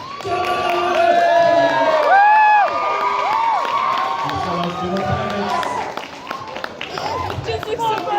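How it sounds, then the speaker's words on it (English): Audience at a pocky eating contest cheers and shouts with scattered clapping, a loud continuous crowd roar with excited high-pitched voices rising and falling over several seconds. "can we get a big round of applause and some cheers for our shortest competitor?"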